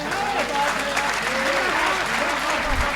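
Audience applause at a Hindi comedy poetry show, a dense patter of clapping hands, close and continuous, with a speaker's voice running over it.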